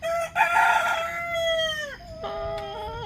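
A rooster crows loudly and close by, a long drawn-out call followed by a shorter second crow, with no other sounds around.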